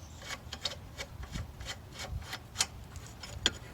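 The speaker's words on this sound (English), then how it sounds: "Use a 10mm deep socket" A 10mm deep socket working loose a car battery terminal bolt on a 2008–2017 Mitsubishi Lancer, a series of close, dry ratcheting rubs and clicks in an uneven rhythm.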